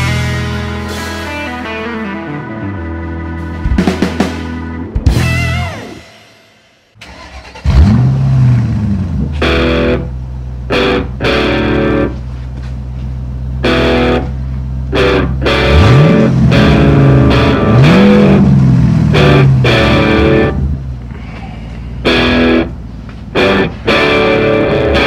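A new 350 hp Chevy V8 in a 1991 Malibu Competition ski tow boat cranks, catches and fires, then revs up and down repeatedly in loud, close, rising and falling bursts.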